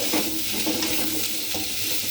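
A sole and koi fish curry with potato, plantain and greens is stirred in a frying pan right after salt goes in, giving a steady close sizzle with soft scraping stir strokes throughout.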